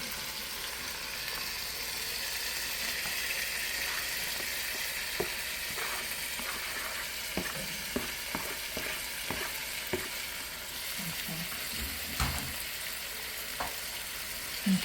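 Chopped Roma tomatoes sizzle steadily in a hot pan for a long stretch, with scattered scrapes and taps of a spoon stirring them around, close up and moderately loud, and no one talking.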